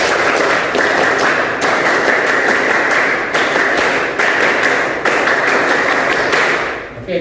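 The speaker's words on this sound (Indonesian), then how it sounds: "kita tepuk pramuka 2 kali" Scouts performing the rhythmic tepuk pramuka clapping chant, a loud, dense burst of group clapping with short pauses marking the pattern, sustained for several seconds before breaking off.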